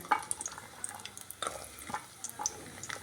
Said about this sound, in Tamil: ஒரு டேபிள் ஸ்பூன் அளவுக்கு நல்லெண்ணெய் ஊற்றிருக்கிறேன் அது காஞ்சிருச்சு அதில் வந்து சின்ன வெங்காயம் ஒரு பன்னெண்டு போடுறேன்